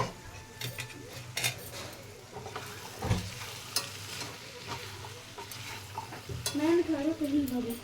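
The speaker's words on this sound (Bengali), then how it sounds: "তো ঢাকাটা এবার আমি খুলে নেব, নিয়ে আরও একবার নাড়িয়ে নেব" Chickpeas fry in a pan while a utensil stirs them, giving a close continuous sizzle broken by scraping and clinking against the metal, with a brief clunk partway through.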